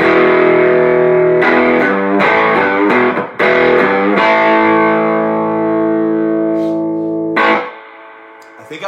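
Distorted electric guitar through a distortion pedal plays sustained chords with sharp strummed attacks and a mid-heavy, gritty tone, ringing loudly then cutting off near the end.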